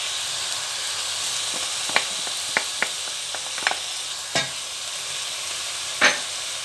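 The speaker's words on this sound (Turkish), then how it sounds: "Kavurmaya devam ediyorum." Chicken with chopped onion and garlic sautés in a pan, giving a constant hissing sizzle with scattered sharp taps and scrapes from a stirring spoon, and no voices.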